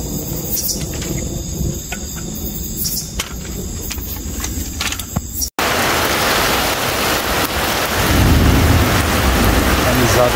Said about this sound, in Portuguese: tá chovendo muito forte